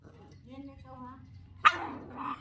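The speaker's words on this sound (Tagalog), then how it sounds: "pinapakain na namin yung aso" A hungry dog gives a sharp bark or yip while being fed, a single loud burst near the end following a stretch of people talking close by.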